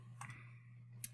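Calculator keys are pressed to work out a square root, giving two soft, isolated clicks about a second apart over a quiet, steady low hum.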